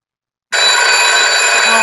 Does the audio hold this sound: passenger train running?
no